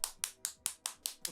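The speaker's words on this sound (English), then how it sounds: "There's like, yeah, the one person clapping." A single person claps slowly and steadily, seven sharp claps at an even rhythm, fairly close and alone.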